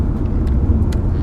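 A 1997 Acura CL 3.0 Premium on the move, heard from inside the cabin as a steady low engine and road rumble with faint higher hiss, continuous and unbroken.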